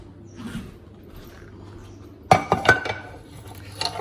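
Metal frying pans clink and clatter in a burst of several sharp knocks as they are handled in a kitchen drawer, close and fairly loud after a quiet stretch with faint room noise.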